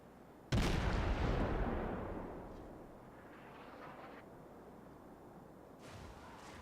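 Heavy naval gunfire from Omaha and Cleveland cruisers in a warship video game: a sudden loud boom that rolls off into a long decaying rumble, then a second fainter blast near the end.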